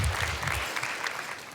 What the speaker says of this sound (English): Big applause, ladies and gentlemen.